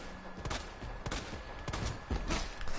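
Gunfire from Resident Evil 2, Leon B run: a series of sharp in-game gunshots and bursts spread across the stretch, fairly loud over constant game sound.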